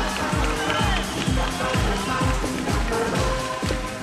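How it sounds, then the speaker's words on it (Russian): An audience at a 2004 KVN Major League Summer Cup comedy show claps in rhythmic unison for a birthday surprise, the steady beats loud and even, with crowd noise and some voices underneath. "Ваши аплодисменты!"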